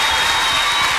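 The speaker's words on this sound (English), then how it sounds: "Please get the applause going," Concert audience applause in London, a brief, dense burst of clapping at steady loudness with no gaps.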